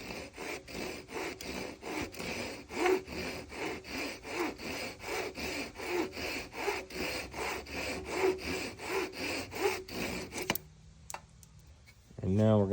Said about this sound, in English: I'm gonna cut this little nub off here.